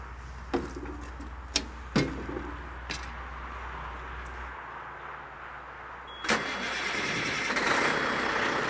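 A truck engine starts up: a few knocks and clicks, then the engine catches with a sharp burst and settles into a steady, rumbling idle, close and fairly loud.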